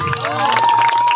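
A crowd at a music concert cheers and applauds the young artists, a dense, loud wash of clapping and shouts with children's voices mixed in, held steadily throughout.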